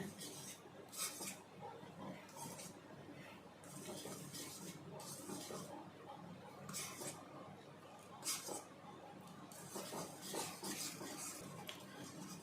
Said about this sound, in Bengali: গুড়টা এইভাবে নাড়ছি